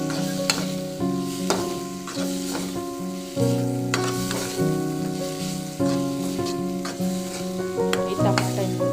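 Tomato stirring and frying in a home-cooked Telugu dish, with intermittent spoon scrapes over a low sizzle and steady tonal music running underneath.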